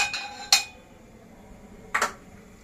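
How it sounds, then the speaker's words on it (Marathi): A metal pan is set down on a gas stove burner with two brief, sharp clanks about a second and a half apart. The kitchen is otherwise quiet and no one speaks. "गॅसवर मी पॅन ठेवलाय"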